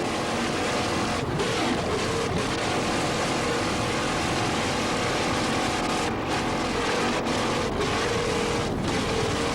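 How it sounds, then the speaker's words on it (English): Racing powerboat engines from 1986 boat races at Holiday Isle in the Florida Keys roar in a loud, steady, continuous drone with a broad rumbling wash, with no talk over it. "Listen to those engines right there. You can just hear the noise that United Engines are putting out right now"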